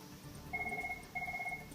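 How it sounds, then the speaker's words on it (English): An emergency telephone rings in two clear bursts of a steady electronic trill, fairly loud and close, with a short pause between them and no talking. "I'm receiving a call from my emergency phone."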